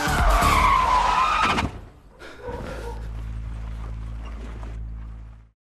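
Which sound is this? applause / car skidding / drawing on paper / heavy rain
car skidding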